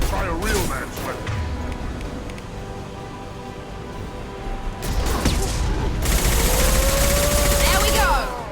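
Impact shot weapon fire in Mass Effect 2 bursts out in a busy combat scene, with loud crackling rapid gunfire, metallic clatter and booming blasts layered under shouted voices.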